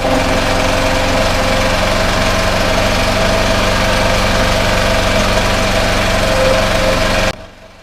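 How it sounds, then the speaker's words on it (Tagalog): A petrol generator idles with a steady, loud, even mechanical drone and constant vibration, running unchanged for several seconds before cutting out abruptly at the end. "Wala namang masyadong ginawa dyan sa generator natin"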